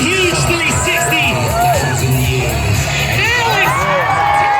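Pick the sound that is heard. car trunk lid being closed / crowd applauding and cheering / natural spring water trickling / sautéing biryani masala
crowd applauding and cheering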